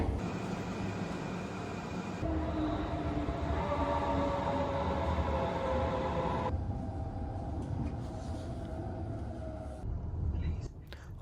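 Riding a local train with a Brompton folding bike aboard, a continuous rumbling carriage drone with faint tonal whine and shifting hum, steady and close throughout.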